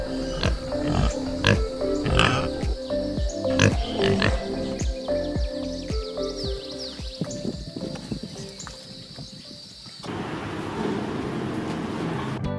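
Pigs on a free-range farm grunt and snort repeatedly at close range, with a busy farmyard background that shifts to a rougher, noisier ambience near the end.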